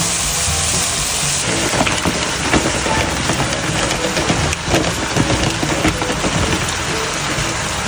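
Rain falls outside in a steady, dense patter on surfaces, a constant close wash of drops without pauses.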